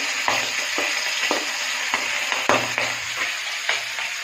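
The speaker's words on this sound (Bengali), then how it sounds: "মাছের মাথাটা ভেজে নিচ্ছি" A fish head fries in hot oil with a steady, close crackling sizzle, punctuated by several sharp bursts and spatters as the oil pops.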